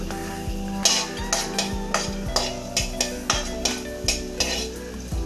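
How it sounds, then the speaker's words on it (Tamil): Onion pieces fry in a pan over a medium flame, a steady sizzle broken by regular scraping and clinking of a metal spoon, close and alone. "எல்லாம் ரெண்டு பக்கமும் பொறிஞ்சு வரட்டும் மீடியம் ஸ்டவ் ஃப்ளேம்லே வச்சு வறுக்கணும்"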